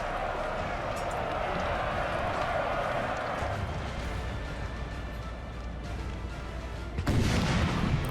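Cannons boom in Napoleon: Total War as artillery fires on Prussian cavalry, blending into a thick, steady battle roar with a louder crash near the end.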